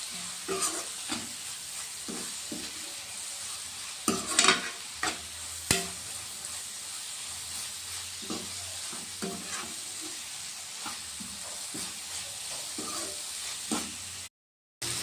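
Masala fries in hot oil for a paneer bhurji, a continuous close sizzle broken by repeated scraping stirs and a few louder clatters, with a brief drop to silence near the end.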